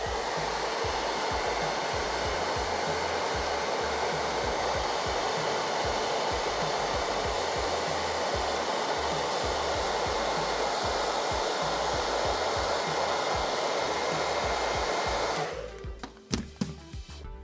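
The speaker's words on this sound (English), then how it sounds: "I'm also gonna hit it with the blow dryer" A blow dryer drying paint on a Warhammer Vizzik Skour, Prophet of the Horned Rat miniature: a loud, steady, close whooshing roar that runs unbroken for about fifteen seconds before cutting off, with no voices.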